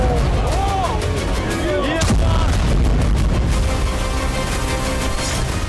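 A loud, continuous roar of blasts and rumbling booms with crackling bursts from a bombed Russian airbase, like a heavy explosion and fire, with faint voices underneath.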